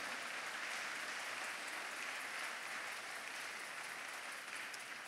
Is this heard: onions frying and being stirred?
no